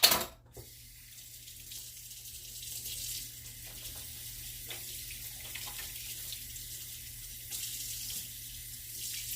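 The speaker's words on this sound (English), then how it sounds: "Wash my hands." Kitchen sink tap runs steadily while hands are washed, a continuous close hiss of flowing water with faint splashing and small clinks, starting with a brief louder burst.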